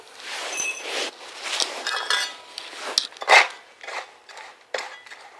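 Fertilizer is stirred together with a few teaspoons of potash and some bone meal in a container for chrysanthemums, giving close, irregular scrapes, clinks and knocks in short bursts with no talk.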